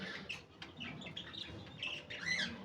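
Hagoromo budgies in a small breeder setup of five pairs, giving repeated squawks and chirps at close range with steady cage background noise and no talking.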